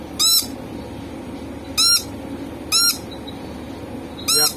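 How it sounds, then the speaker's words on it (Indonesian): A Moluccan lory gives four loud, harsh squawks at roughly one-second intervals, each short and piercing against a quiet background. "Nuri Ambon. Burung bego biasanya dipanggilnya ini. Kuak-kuak aja. Berisik."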